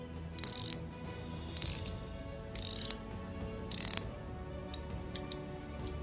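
A watch's rotating bezel turned by hand gives several short bursts of crisp ratcheting clicks, close and fairly loud, separated by brief quiet gaps over a low steady background hum.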